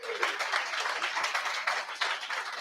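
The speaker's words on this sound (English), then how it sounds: "So give a big round of applause." Audience at a hackathon livestream intro clapping, a steady wash of applause from a modest crowd, continuous and moderately loud with no voices over it.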